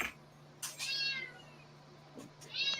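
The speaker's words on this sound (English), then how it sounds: "hear the cat in the background meowing?" A cat meows several times in the background, clear but moderately faint, with drawn-out calls spaced apart over a low steady hum.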